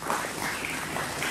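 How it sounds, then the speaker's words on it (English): A church congregation claps together in a steady, dense round of applause that fills the room without a break and with no voices rising above it. "Give King Jesus a big round of applause"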